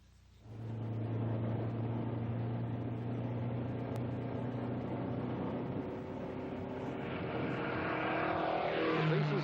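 A 1962 Ford Mustang concept car is driven in testing, its engine holding a steady droning note that rises slightly near the end, heard close and continuous.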